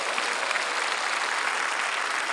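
A large crowd applauds steadily, a dense, even wash of clapping with no pauses.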